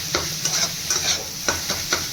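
Egg and bread patty filling frying in a pan while a spatula stirs and breaks it up, giving a steady sizzle with several scraping strokes at a loose rhythm, close by and moderately loud with no talking.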